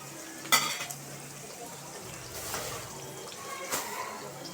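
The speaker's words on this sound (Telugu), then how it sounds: "ఇది కొంచెం వేగాలి ఇంకా కొద్దిసేపు వేగనిద్దాం" Red lentils frying and being stirred in a pan, with faint sizzling and a few soft scrapes of a utensil against the pan at a steady low level.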